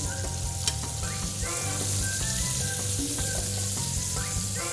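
Pork chops fry in a pan with a continuous, close sizzle and crackle, punctuated by a few faint scrapes and clinks of a utensil.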